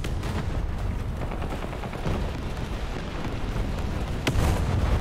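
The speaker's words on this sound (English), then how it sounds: "Man, the strafing is horrible." Aircraft strafing gunfire in War Thunder: a dense, continuous rumble of rapid gunfire and booming impacts, steady throughout, with a sharper crack near the end and no speech.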